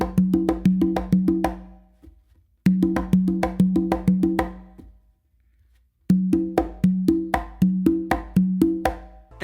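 Conga tumbao pattern played four times: open tone on the tumba, open tone on the conga, then a closed slap-like stroke on the conga. Three bursts of quick, evenly spaced hand strikes ring close and clear, separated by short silences, with no talking.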